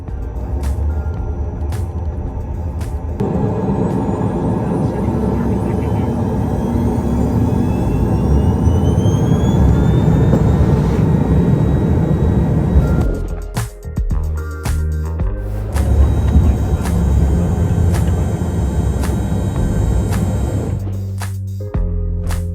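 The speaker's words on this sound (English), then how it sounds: "My first flight today then took us southwest out of Denver towards Telluride in the Rocky Mountains." Small aircraft in flight southwest from Denver toward Telluride over the Rocky Mountains, a loud, steady engine drone and cabin rumble throughout, with a brief dip and shift in tone partway through.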